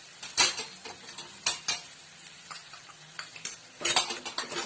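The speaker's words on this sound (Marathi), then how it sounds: "आणि फ्राय करायचं परत 2 मिनिटं" A ground masala paste with coriander powder and turmeric fries over high flame. A metal spoon scrapes and clatters against the pan in sharp bursts over a soft sizzle. No one speaks.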